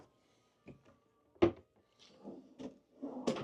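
Small fridge door in a Disney Dream cruise ship cabin, opened with a few soft wooden clicks and thumps, one sharper knock, then a rubbing shuffle, all close and quiet with no talk.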